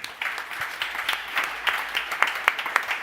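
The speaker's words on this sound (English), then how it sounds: "Let's join me in the applause." Applause from a conference audience after a wind industry panel, a sparse patter of clapping that grows into sharper, more distinct claps toward the end.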